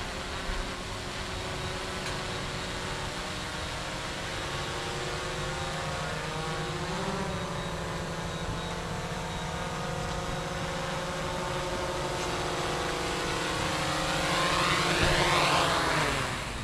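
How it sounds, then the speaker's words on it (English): A small drone coming in to land outdoors gives a continuous propeller whine with shifting pitch, faint and fairly distant at first and growing slightly louder near the end as it descends. "She's coming in for a landing."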